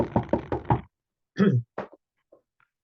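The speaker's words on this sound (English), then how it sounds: "The Baal Shem Tov got out, knocked on this door." Several sharp knocks land on a wooden door in a quick run of four, then a pause before a few softer, scattered raps, close and clear with no talking.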